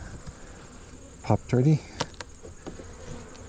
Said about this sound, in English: pretty solid clump of bees